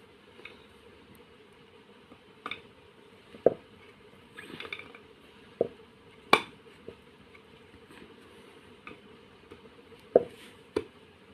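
Nuts are unscrewed from a ceiling fan, giving sparse, faint metallic clicks and taps scattered over several seconds against a low, quiet background hum.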